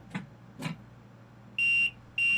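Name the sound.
vigilance alarm in train cab, Train Sim World 2 video game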